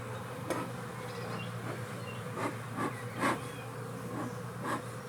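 Honey bees hum in a dense, continuous drone from an opened beehive, close and steady, with a few soft wooden knocks and shuffles from handling the hive.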